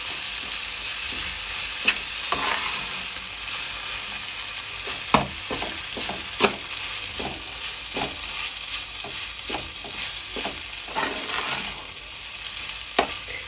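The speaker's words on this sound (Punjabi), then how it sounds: "ਤੇ ਹੁਣ ਆਪਾਂ ਇਹਦੇ ਵਿੱਚ ਐਡ ਕਰਾਂਗੇ ਮਿਰਚ ਤੇ ਇਹਨਾਂ ਨੂੰ ਕਰਾਂਗੇ ਪ੍ਰੋਪਰ ਚੰਗੀ ਤਰੀਕੇ ਦੇ ਨਾਲ ਮਿਕਸ" Chili is stirred into paneer bhurji in a hot pan, with a constant loud sizzle beneath repeated scraping and knocking strokes of the spoon against the pan.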